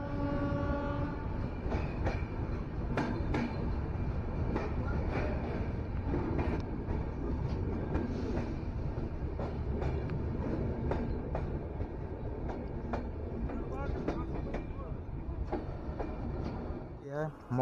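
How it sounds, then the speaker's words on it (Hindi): Farakka Express passenger train running toward Mokama Junction in India, a steady rumbling rail roll with faint clatter and occasional horn-like tones, and a voice speaking over it. "दोस्तों ट्रेन अब मुकाम पहुंचने वाली है और ट्रेन लगभग 4 घंटे 15 मिनट डिले चल रही"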